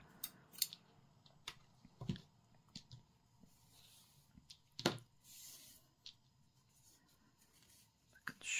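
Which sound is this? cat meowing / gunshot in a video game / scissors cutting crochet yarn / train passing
scissors cutting crochet yarn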